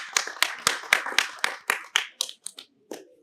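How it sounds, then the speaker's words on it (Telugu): An audience at a film screening event claps in strong, distinct bursts, about a dozen sharp rhythmic claps that slow and thin out toward the end, close and clear with no talk. "మోహన్ బాబు గారికి, విష్ణుబాబుకి ఒకసారి గట్టిగా క్లాప్స్ కొట్టాలి"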